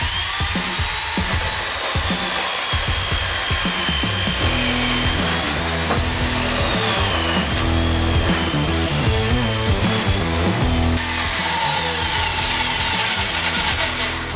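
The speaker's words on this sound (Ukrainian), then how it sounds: "давайте спочатку подивимося, як пилка себе веде на брусі 100 на 100" A YamaMoto electric chainsaw cuts through a 100x100 mm wooden beam, its loud, continuous motor whine and chain rasp holding steady for the whole stretch.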